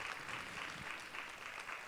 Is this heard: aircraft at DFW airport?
no